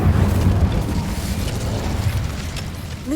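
Incendio fire spell blast cast in the Hogwarts Legacy video game, a loud, sustained rumbling burst of roaring flame that carries for about three seconds, with no talk over it.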